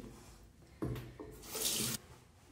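Running tap water splashing in a sink while hands rinse, starting with a soft flow, then a louder bright splash that swells near the end before cutting off.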